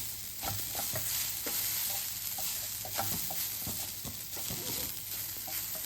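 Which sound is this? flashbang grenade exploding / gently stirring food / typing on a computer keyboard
gently stirring food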